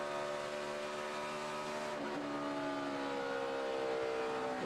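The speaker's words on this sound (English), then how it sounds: "You heard how little time Tony Stewart was off the gas from transitioning that car from the back straightaway into the banking of turn 3" Stock car engines roar at Texas Motor Speedway during the AAA Texas 500, a steady loud drone with shifting pitch as cars run the back straightaway into the turn 3 banking, no voices.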